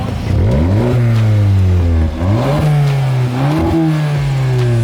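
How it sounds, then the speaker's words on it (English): A Volkswagen MK7 GTI engine with a CTS Turbo cold air intake revs up loudly several times, pitch rising and falling in repeated bursts, close by with an intake roar and no talking. "Sal, can you rev it one time from the back?"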